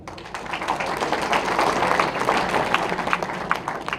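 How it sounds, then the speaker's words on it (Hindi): An audience at a gathering of NRI supporters in the US claps for themselves, a dense, steady wash of many hands filling the room at even loudness throughout. "भाई सबसे पहले तो ताली बजाओ आप अपने लिए"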